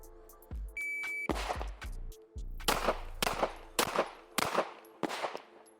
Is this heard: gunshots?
yes